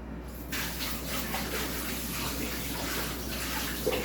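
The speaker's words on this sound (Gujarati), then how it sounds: "હવે પહેલાં હું હાથ ધોઈ લઈશ." Hands being washed under a running kitchen tap while making flour dough, a steady splashing water stream with small shifts as the hands move, fairly close and continuous.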